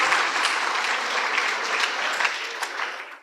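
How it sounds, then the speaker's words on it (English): Audience applause after a school debate between high school teams, a dense continuous wash of clapping hands at moderate volume that holds steady throughout and fades slightly at the end. "Please give them a round of applause."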